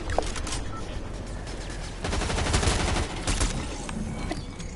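Rapid turret gunfire in Fortnite, dense bursts of loud cracking shots fired close by in long continuous strings, with a heavier stretch near the middle and no talk over it.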